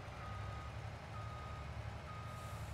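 A tractor or truck in a farming game backs up slowly on a snowy soybean field. Its steady reversing beeps repeat over a constant engine drone, and no one speaks.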